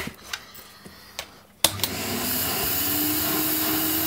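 A vintage 1965 Electrolux ZA65 vacuum cleaner with a push-fit hose starts after a few clicks and knocks, then runs with a steady, loud, airy roar and whine that holds to the end.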